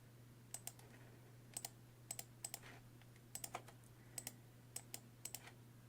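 Computer mouse clicks at a desk while arranging quilt block sections into groups on screen: close, crisp clicks, often in quick pairs, scattered irregularly over a steady low electrical hum, with no talking.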